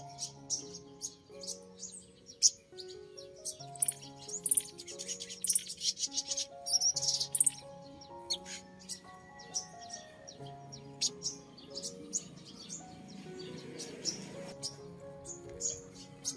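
Small sunbirds, five-colour white-bellied type kept as caged fighting and singing birds, give repeated high thin chirps and short song phrases, fairly close, with faint background noise and no talking.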